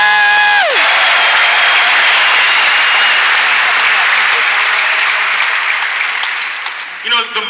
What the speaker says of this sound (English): So let's give John Maxwell a round of applause.